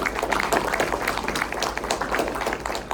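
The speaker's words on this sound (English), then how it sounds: "can we get one more round of applause for Bill and for all he's done with us today?" Dense audience applause at a conference honoring a man named Bill, steady close clapping filling the whole stretch with no pause.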